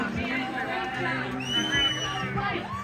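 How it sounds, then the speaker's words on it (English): A crowd at a New England hot sauce festival's amateur super hot pepper contest cheers and whoops for the runner-up, lively shouting and babble over scattered clapping, fairly close and loud throughout. "Let's give our runner-up a round of applause, guys."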